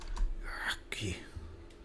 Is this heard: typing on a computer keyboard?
yes